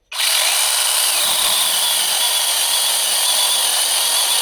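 A LEADER cordless mini chainsaw cuts into wood with a loud, steady, high-pitched whine. It starts abruptly and keeps a continuous strained buzz up close, with no voices.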